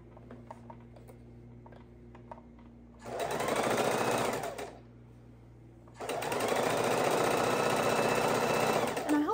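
A sewing machine stitches quilt blocks for a girl's room quilt in two loud, steady runs, the first about two seconds long and the second longer, with a quiet pause between them and faint ticking before the first run.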